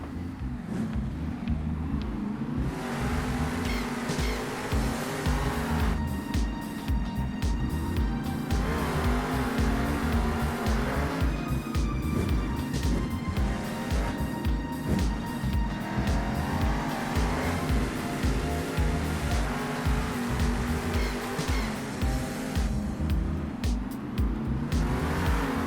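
Monster trucks Oscar and Rottweiler launching off the line at a Monster Jam arena race in San Diego, engines roaring loud and steady throughout with revving swells and tire squeal over constant crowd noise.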